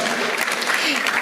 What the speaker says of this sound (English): I think we should clap.